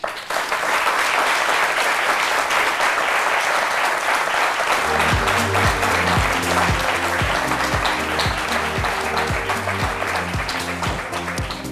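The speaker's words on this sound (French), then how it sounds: "Mesdames et messieurs, veuillons le recevoir avec des applaudissements," A studio audience applauds to welcome a guest, a thick, steady wash of clapping that carries on while a rhythmic musical beat comes in underneath about halfway through.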